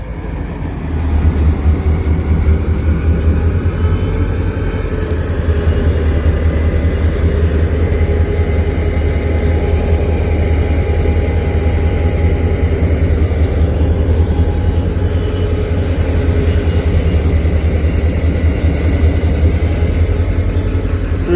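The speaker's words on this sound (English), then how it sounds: "There goes the train." A freight train passes at Slover Avenue in Colton, California, a loud continuous rumble of rolling wagons and rail noise with steady wheel clatter and faint squeal, no talk.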